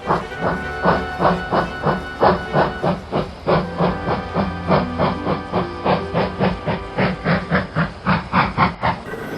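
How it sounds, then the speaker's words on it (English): A steam locomotive pulls away toward a scrapyard, its rhythmic chuffs loud and steady, repeating evenly with a hissing steam wash over a low rumbling base throughout, no talk. "Chocolate begins to puff off to Croc's scrapyard"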